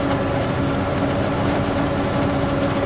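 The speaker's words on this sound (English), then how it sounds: "And that engine noise as well." A harvester engine in Farming Simulator 25 drones loud and steady, with a constant low mechanical hum and a sustained tonal whine throughout, with no talk over it.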